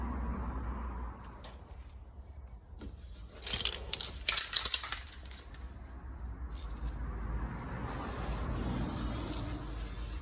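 Near the end, a spray can of lacquer hisses steadily onto a repaired car panel in a workshop, following a few rattling, clattering handling noises and quiet room ambience.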